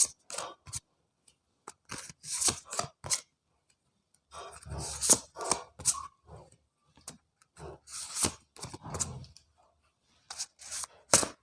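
Tarot cards are shuffled and drawn in quick, crisp bursts of snapping and riffling, close and dry, separated by short pauses.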